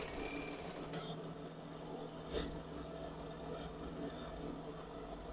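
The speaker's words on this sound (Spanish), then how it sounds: "damos una puntadita hacia arriba, acomodamos y pasamos costura." Sewing machine stitching slippery silk fabric for a woman's blouse, a steady low mechanical hum running throughout at moderate distance with faint background noise and no speech.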